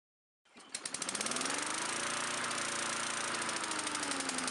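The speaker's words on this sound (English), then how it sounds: "Let the car run for 80 seconds." A Honda Accord with a P1167 fault code cranks and starts, then settles into a loud, steady running engine sound close by, with no talking.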